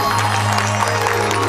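A crowd claps along at a Sufi music night, loud and continuous, the applause layered over a sustained droning instrumental tone and a low hum.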